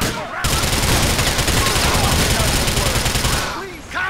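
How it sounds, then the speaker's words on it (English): Sustained gunfire in the video game GTA IV, with a dense continuous volley of rapid shots that runs for several seconds, loud and close, then tails off at the end. "Keep shooting!"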